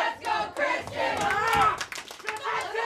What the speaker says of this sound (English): And the crowd trying to rally Kristian back in this.